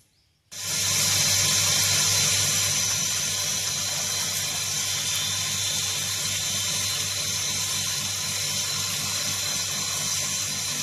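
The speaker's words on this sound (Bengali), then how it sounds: "মাছগুলো পরিষ্কার করে ধুয়ে নিয়ে আসলাম" Running water pours steadily, as from a tap into a sink, while fish are rinsed clean for a Bengali fish recipe; a continuous close gush starts abruptly after half a second and holds without pause.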